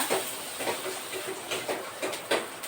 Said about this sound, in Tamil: நல்லா கலர் மாறும் வரைக்கும் நல்லா வதக்கிக்கோங்க